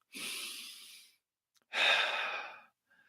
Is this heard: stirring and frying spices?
no